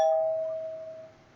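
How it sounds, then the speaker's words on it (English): A doorbell rings once with a clear bright chime that decays smoothly over about a second, heard alone in a quiet room. "We have doorbell."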